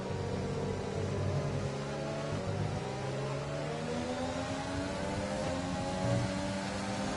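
Racing car engines whine in the F1 2020 video game during a United States race. Engine notes rise and shift steadily as gears change, and other cars' tones overlap close by at moderate level, with no speech.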